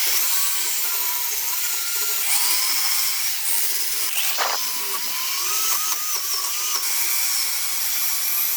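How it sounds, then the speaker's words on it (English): A power drill with a wire brush attachment runs steadily with a gritty, scratchy whirr, scouring a rusty wrench, close and continuous with slight changes in pitch. "We'll give it a going over with a drill and a wire brush attachment."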